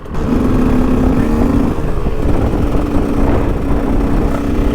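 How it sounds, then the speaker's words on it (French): KTM 125 EXC two-stroke dirt bike fitted with an FMF Shorty silencer, running steadily and loud with a continuous buzzy engine drone throughout, no talking. "j'ai enfin monté mon silencieux FMF Shorty qui fait juste un bruit de fou."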